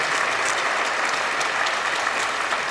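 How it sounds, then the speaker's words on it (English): A festival audience gives a round of applause at the close of a World Science Festival event, a dense, continuous wash of clapping that stays loud and even throughout with no voices over it. "Can you please all join with me in giving them a massive round of applause"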